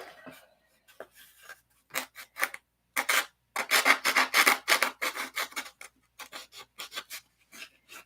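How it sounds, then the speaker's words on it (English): A sanding block with sticky-back sandpaper rubbed by hand on a workpiece for a model plane, close rasping strokes in uneven bursts, some quick and some longer, separated by brief pauses. "you're never going to sand that by hand without some type of block"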